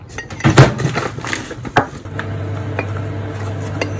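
Spoon clinking against a mug while stirring mug cake batter with milk, a few sharp knocks then softer scraping and rattling, close up and alone.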